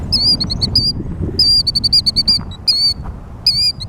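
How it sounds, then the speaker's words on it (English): A small ground-nesting bird gives rapid, high-pitched repeated piping calls in bursts, loud and close, over a faint low rumble of background noise. "I did find these little ground nesting birds"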